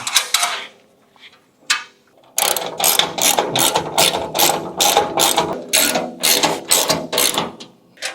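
A ratchet tightens a washer and nut onto a bolt of a PAKMULE Scout hitch riser. A few clicks come first, then a rapid, steady run of loud, close ratcheting clicks in quick bursts.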